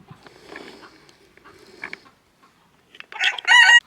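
Chickens cluck softly in short bursts, then a rooster's loud crow rings out close by near the end.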